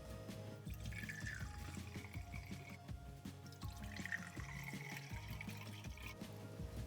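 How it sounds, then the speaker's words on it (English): Supersaturated baking soda solution is poured into vessels for growing crystals, giving a soft, steady liquid trickle with light drips, close and quiet, with no voices. "pour half of the supersaturated baking soda solution into each of the vessels"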